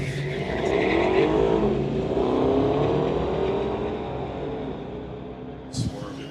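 A street-legal drag race pits a 2005 Dodge Charger against a 2014 Ford Mustang. A loud engine roars at full throttle, holds for several seconds, then fades, and a brief knock follows near the end.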